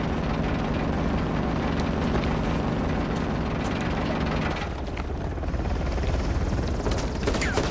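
A helicopter in the video game Uncharted: The Lost Legacy gives off a loud, dense, continuous rotor roar mixed with rattling bursts that resemble gunfire, steady throughout with no talk.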